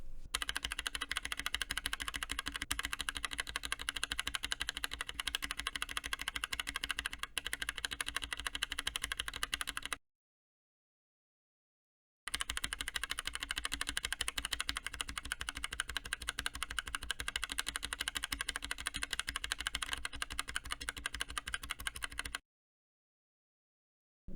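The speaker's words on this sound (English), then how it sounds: "Cherry Profile keycaps on north-facing switches would result in a clackier, higher-pitched sound" Steady, rapid clacking of keys on an Epomaker Akko Neon 3061 mechanical keyboard, two long runs of continuous typing separated by a brief silence.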